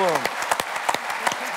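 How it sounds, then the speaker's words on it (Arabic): Studio audience of a Tunisian TV game show applauding, scattered claps and bursts under voices talking over them, fairly close and moderately loud. "صفقوا علي"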